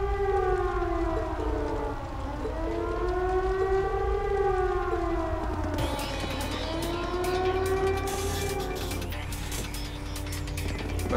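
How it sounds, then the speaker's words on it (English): A wailing air raid siren in The Legend of Heroes: Trails of Cold Steel rises and falls in slow sweeping cycles, loud and sustained, with mechanical clanking and rattling joining partway through. "That sounds like an air raid siren."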